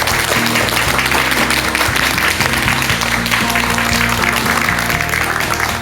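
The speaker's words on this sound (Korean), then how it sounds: "큰 박수 한번 부탁드리겠습니다" Audience applause at a lecture on self-love, steady and continuous throughout, with a musical tone running underneath.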